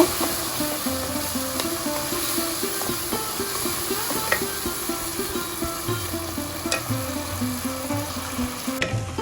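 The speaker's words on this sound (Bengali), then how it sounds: "মশলাটা ভালোভাবে কষিয়ে নিচ্ছি মশলা থেকে তেল ছেড়ে দিচ্ছে এখন আমি দিয়ে দিব কেটে রাখা চিংড়ি মাছ" Prawns fry with spice masala in oil in a pan, giving a steady close sizzle with occasional stirring clinks throughout, and no one talks.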